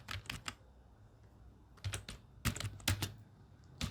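Java code is typed on a computer keyboard in quick clusters of keystrokes separated by short pauses, close and fairly quiet.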